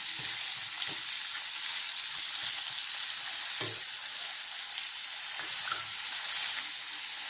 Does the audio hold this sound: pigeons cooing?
no